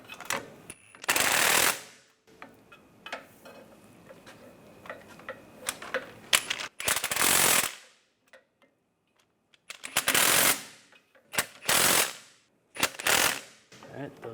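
Ratchet wrench tightening knock sensor bolts on a 2010-2016 Cadillac SRX engine: several loud, close bursts of rapid clicking separated by pauses, with quieter metallic handling noises between them and no talking.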